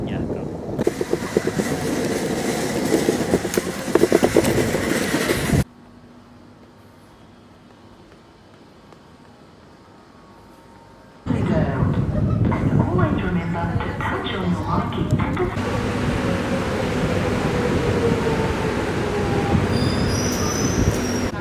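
Steady rumbling and clattering of a moving train fill the clip, with rail squeal and wind noise, broken by a quieter stretch in the middle.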